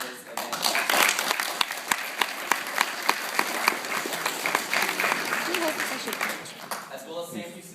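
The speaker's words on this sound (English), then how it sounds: "give a big round of applause for the IPDA" A crowd applauds steadily for several seconds at a debate tournament's varsity finals, a dense wash of clapping with a few sharper claps standing out, fading slightly toward the end.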